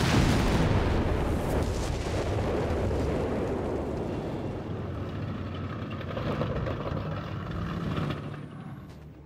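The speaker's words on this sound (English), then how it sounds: "The bazookas laying down heavy fire against any German armor vehicle." Heavy battle noise from Company of Heroes 3, with bazookas and tank guns firing at German armor: a dense, continuous wash of booming blasts and rumble, loud at first and easing slightly, with no talk over it.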